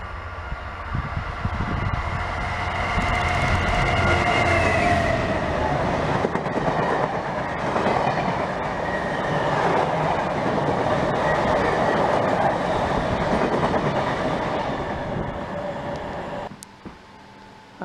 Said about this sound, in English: We've got a freight train and some passenger trains.